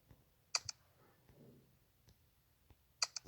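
Quiet, dry double clicks of an empty shotgun's trigger in a Minecraft gun mod sound twice a few seconds apart over near silence.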